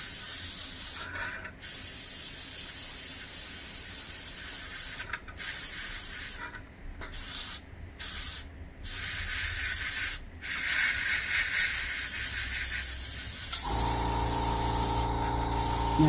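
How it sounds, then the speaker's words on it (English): An airbrush spraying paint onto a model of a WW2 German Sd.Kfz.251 halftrack, a close, steady hiss broken by a few brief pauses, then a lower hum near the end. "that airbrush is 3 to 5 millimeters from the surface"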